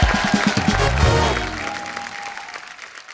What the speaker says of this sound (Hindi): एक बार शुभ मंगल दादा सावधान की पूरी टीम के लिए जोरदार तालियां